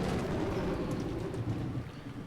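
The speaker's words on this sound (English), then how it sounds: "The crashing thunder told that the island had been sealed off from the outside world." Low, rolling thunder rumbles continuously in the Umineko visual novel, a dense stormy roar with rain-like texture that stays loud throughout before easing slightly near the end, with no voices.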